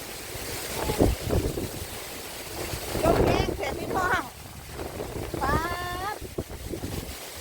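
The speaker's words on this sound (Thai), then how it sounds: "ลมแรงมากเนาะ" Strong wind buffets the microphone outdoors, a steady rumbling roar with gusty swells, while several people talk over it.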